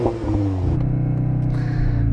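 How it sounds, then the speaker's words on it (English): An Audi engine revs hard up close, a loud harmonic roar climbing in pitch and then holding at high revs for a couple of seconds, with no voices. "So I'm going to rev up this Audi."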